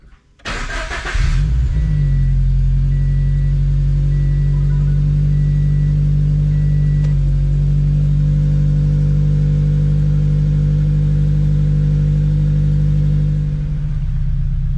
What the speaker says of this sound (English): Start engine, idle for 45 seconds.